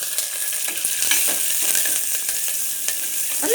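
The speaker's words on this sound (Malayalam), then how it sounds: "ഇതിലേക്ക് നമുക്ക് ചെറിയ ഉള്ളിയും മുളകും കറിവേപ്പിലയും ഇട്ട് കൊടുക്കാം." Shallots, chillies and curry leaves sizzle in hot oil for a Palakkad-style chilli-tamarind dish, a steady bright frying hiss with scrapes and light clinks of a stirring spoon, close and without talk.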